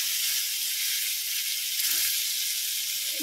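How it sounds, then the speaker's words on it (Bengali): Ripe pointed gourd (potol) sizzles in hot oil in a pan, a steady close hiss with no voices. "পাকা পটল ভাজছি, পাকা পটল ভাজা আজকে সেরকম কিছু না"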